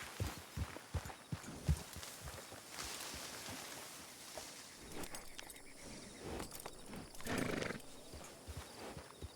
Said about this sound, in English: Hell, that could be the horse.